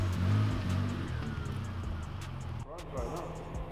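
A BMW 535i engine runs at a steady idle close by, a low continuous hum and rumble, with someone talking over it throughout.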